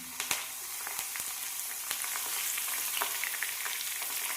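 Washed curry leaves frying in hot oil for fish pickle, a steady crackling sizzle with sharp pops and spits scattered throughout, close and fairly quiet.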